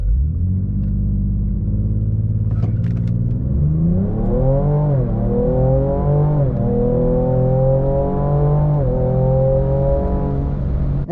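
A 2023 Ford Ranger Raptor pickup accelerates hard from 0 to 100 on the road, engine revving up through several gears, pitch climbing and dropping at each shift, loud and close throughout with no talking.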